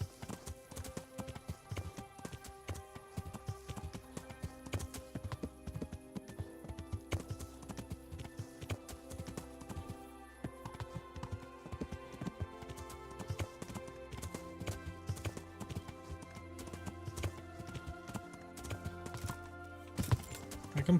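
Horse hooves clip-clop steadily in the medieval video game Kingdom Come: Deliverance, a close, continuous run of even hoofbeats over sustained tonal background sound, with no talking.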